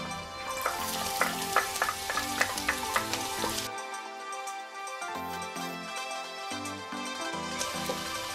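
Garlic fries in a pan for cheesy fried rice with a bright, crackling sizzle, loud and close, as a spatula clinks rhythmically against the pan before the sound settles into a quieter, steadier fry.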